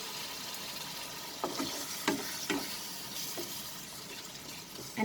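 Masala for a prawn curry fries and sizzles quietly in a pan while a spoon stirs it, adding several soft scraping strokes and clinks over the steady crackle.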